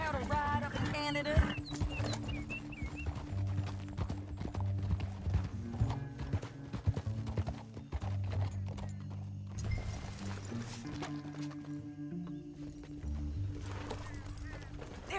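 Horse hooves clip-clop steadily at a gallop while riding in a video game, with occasional whinnies and background music; the hoofbeats stay fairly close but moderate in loudness.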